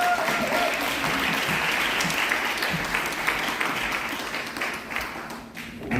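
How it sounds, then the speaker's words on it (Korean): A crowd applauding steadily at a lecture, dense clapping that holds for several seconds and then begins to thin toward the end. "큰 박수로 무대로 모시겠습니다."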